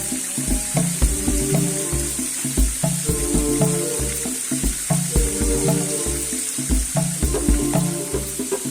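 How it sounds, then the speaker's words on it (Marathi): A small jungle waterfall with little water runs as a steady, loud splashing hiss, broken by frequent clattering spatters throughout. "मी आता हा धबधबा एक्सप्लोर करतोय"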